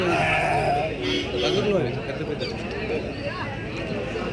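Sheep bleat at a busy Tuesday livestock market in Kadiri, where rams are being traded. Several calls carry through constant crowd chatter and talking nearby.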